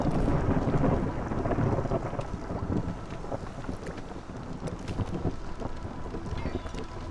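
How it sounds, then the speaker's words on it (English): A storm in the video game Against the Storm brings heavy, rumbling thunder and driving rain with gusty wind, loudest at the start and then holding as a dense, steady roar with no talking. "Here comes the storm."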